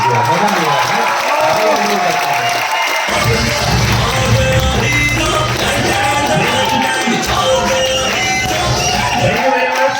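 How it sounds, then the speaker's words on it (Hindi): Audience on a cruise-ship event applauding and cheering for a speaker, lively clapping and a few whoops under an announcer's amplified voice that talks throughout. "तो एक बार अनु सर के लिए जबरदस्त ताली हो जाएगी।"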